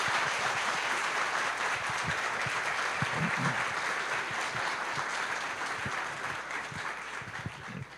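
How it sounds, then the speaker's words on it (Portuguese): A lecture-hall audience gives a big round of applause welcoming Professor Nívio Ziviani to an inaugural lecture on artificial intelligence, steady crowd clapping with a few louder individual claps scattered through it. "gostaria que todos recebessem com a grande salva de palmas o professor Nívio Ziviani"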